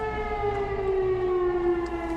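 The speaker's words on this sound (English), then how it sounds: "an air raid siren just went off" A steady, droning air raid siren wails continuously at a distance in the Black Forest, its tone holding nearly level with faint background noise.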